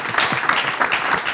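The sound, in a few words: audience applause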